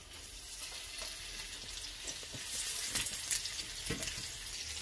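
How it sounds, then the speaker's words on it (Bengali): Salted, spiced fish pieces go into a hot kadai to fry, bringing a steady, moderately loud sizzle with a few brief crackles and scrapes, and no voices. "মাছগুলো আমি দিয়ে দিচ্ছি কড়াইয়ের মধ্যে"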